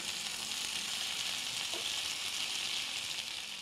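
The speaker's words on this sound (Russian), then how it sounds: "Затем отправляем оленину на сковороду." Venison sizzles in a frying pan with a soft, steady hiss that stays even and fairly quiet throughout.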